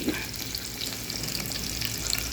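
Garlic fries in oil in a pan, a steady, close crackling sizzle throughout with no talking.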